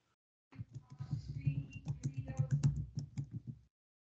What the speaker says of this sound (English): I hear typing. Who's typing?